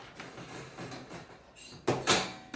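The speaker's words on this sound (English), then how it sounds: "Lock the door on the crate." A dog crate's gate swings shut and is latched, giving a soft rattle followed by two close metallic clanks of the latch locking, with no talk.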